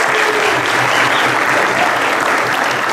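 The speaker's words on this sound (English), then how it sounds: "Let's give it up one final round of applause." A crowd applauds a national champion college cheer and dance team at a ring and trophy celebration, loud, dense clapping that holds steady for several seconds.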